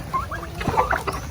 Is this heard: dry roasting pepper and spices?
no